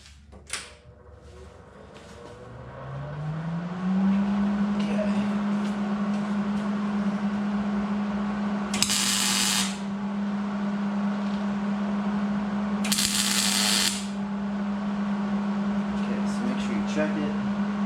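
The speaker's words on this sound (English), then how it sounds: "So let me get my welder on." A welder makes two short, crackling tack welds on a homemade front bumper for a Suzuki Samurai. The bursts are a few seconds apart over a steady, close electrical hum.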